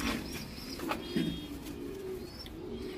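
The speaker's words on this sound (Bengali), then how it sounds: "এটা মাদি কবুতর ঠিক আছে" Pigeons coo low and steadily at a racing-pigeon loft, with a few faint chirps and light background noise and no talk.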